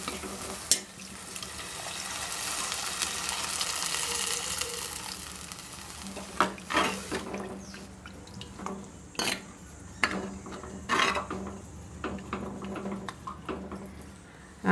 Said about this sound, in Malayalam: ഇനി ഇതിലേക്ക് ആവശ്യത്തിന് വെള്ളം ഒഴിച്ചു കൊടുക്കാം